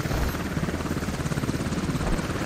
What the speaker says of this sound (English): He is being chased by a helicopter just far enough away to scout what he's doing.